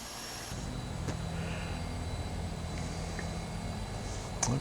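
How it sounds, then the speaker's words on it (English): Left engine of a de Havilland Twin Otter turboprop spooling up during a bush-plane start, a steady low whine and rumble that holds level and fairly loud, with a faint click near the end. "You can hear the left engine spooling up."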